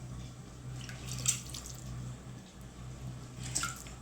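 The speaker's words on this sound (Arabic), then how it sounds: "بقاو تزيدوا الماء غير بشويه بشويه" Water is added little by little to Moroccan couscous with vegetables: a few faint drips and small splashes sound over a steady low hum, with no talking.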